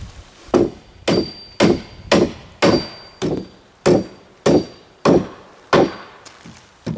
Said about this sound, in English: what I've got here is two 2x6s, and I'm going to be nailing them together.